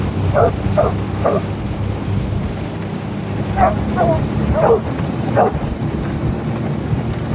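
Hunting dogs at a bay bark in two bursts of three or four sharp barks each, set back at middle distance. A steady rumble of outdoor wind and background noise runs under them.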